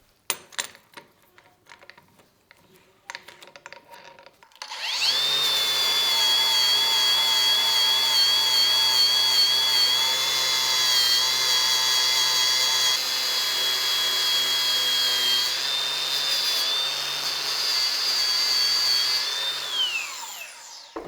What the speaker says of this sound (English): I switch the Scotch-Brite disc to a wire brush, and that's how I clean the rest of the hammer